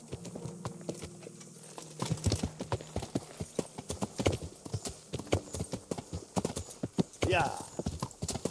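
Horse hooves clip-clop in a steady walking rhythm in the medieval game Kingdom Come: Deliverance, close and moderately loud, with a brief whinny near the end and someone talking over the steps.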